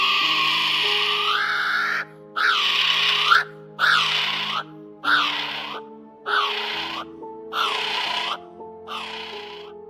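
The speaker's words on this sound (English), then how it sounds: "that is a kiwi, is accentuated by the distinct and somewhat eerie noises it makes, which resonate through the quiet of the night." Kiwi bird calling at night, a series of about seven loud, close, harmonic rising-and-falling cries in an even repeating rhythm, each lasting about a second with short gaps between them.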